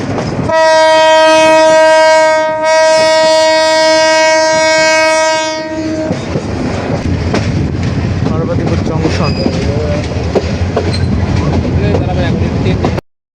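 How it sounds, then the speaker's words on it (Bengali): A Lalmoni commuter train departing Kholahati railway station sounds a long, loud two-part horn blast up close, then settles into a steady rumbling roar of carriages on the rails. "খোলাহাটি রেলওয়ে স্টেশন থেকে আমাদের ট্রেনটি যাত্রা করলো"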